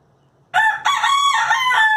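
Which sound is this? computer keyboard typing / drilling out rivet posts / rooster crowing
rooster crowing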